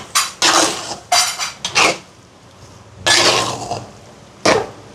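A metal ladle clanks and scrapes around a large cooking pot as salt is mixed into a pumpkin dish being cooked for a charity meal. The strokes come in loud, irregular bursts with short pauses between them.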